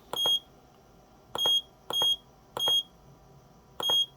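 JY-15B timer board beeping: five short, sharp electronic beeps in an irregular rhythm, loud and close, with quiet room noise between them and no talking.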